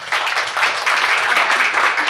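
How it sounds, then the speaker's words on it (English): Applause at an event in New York City, a dense, steady wash of clapping from a crowd that stays loud and even for about two seconds. "can we just get a huge round of applause?"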